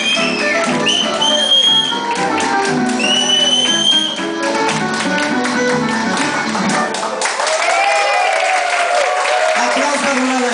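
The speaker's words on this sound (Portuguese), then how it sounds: "Aplausos para o galera." A party crowd claps and cheers at a stage contest, a busy mix of hand claps, taps and excited voices layered with whistling tones and chatter.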